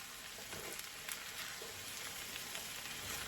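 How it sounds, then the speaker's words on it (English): Corn frying in a pan, a soft, even sizzle and hiss that runs steadily throughout, close but quiet, with no talking. "So I'm going to fry this here on up in there."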